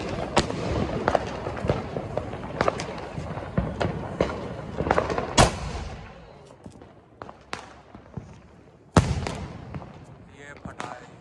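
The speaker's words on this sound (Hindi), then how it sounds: "तो ये है स्काई शॉट और ये लग गई आग।" Sky shot fireworks during Diwali celebrations set off outdoors, giving a rapid series of sharp loud bangs and crackles over about six seconds, a lull with scattered pops, then more booming blasts with crackling tails, while people talk over them.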